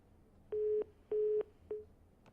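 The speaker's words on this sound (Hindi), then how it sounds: "लगता है फोन डिस्कनेक्ट हो गया" Telephone disconnected tone on a call line: three short, clean electronic beeps at a steady pitch, the last one clipped shorter, ringing out clearly against a quiet background.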